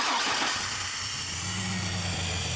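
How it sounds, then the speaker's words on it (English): A 2002 Chevy Silverado engine with a crank-no-start fault cranks and then catches, settling into a low steady idle hum beneath a loud continuous hiss. "let's crank the engine and see what happens"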